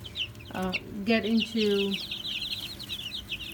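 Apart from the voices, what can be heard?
pet chickens clucking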